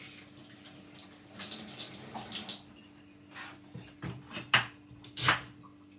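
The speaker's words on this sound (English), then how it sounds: "Make sure you wash off the celery really good, guys, because sometimes the celery come really messy." Tap water runs in a kitchen sink as celery is washed, a soft steady flow broken by several louder splashes and spatters toward the end.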